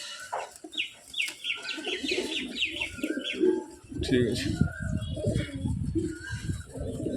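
Pigeons coo and flutter close by in a loft while a person talks over the birds, with a chicken clucking among them.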